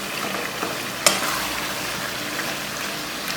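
Steady oily sizzling of a chicken karahi frying as a spoon stirs and breaks up tomatoes, with a clear scraping clink against the pan near the start and continuous crackle underneath.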